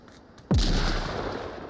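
A C4 explosive detonates in the VR shooter Onward: one sudden, loud, close blast that booms and then rumbles away in a long fading tail, preceded by faint background noise.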